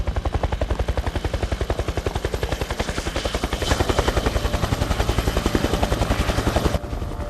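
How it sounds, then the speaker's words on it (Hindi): Military helicopters fly overhead with a loud, steady, rapid rotor thump that fills the whole stretch and swells slightly midway. "ये हेलीकॉप्टर्स की आवाज है।"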